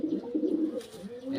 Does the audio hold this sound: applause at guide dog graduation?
no